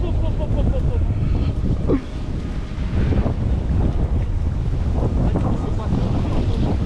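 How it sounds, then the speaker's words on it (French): Strong headwind buffets the microphone at a gravel-pit lake during a carp fishing trip, a loud continuous low roaring rumble with gusty swells, over someone talking. "le vent de face"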